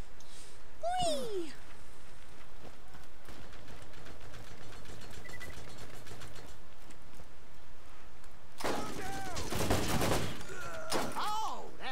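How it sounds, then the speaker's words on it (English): Scattered gunfire in the shooter game Borderlands: faint rapid pops and crackles over a steady ambient bed, with a louder burst of shots and whooshing effects near the end. "Who's shooting at us?"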